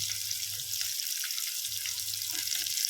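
Crushed shallots and garlic sauté in a pan with a soft, steady high sizzle over a faint low hum.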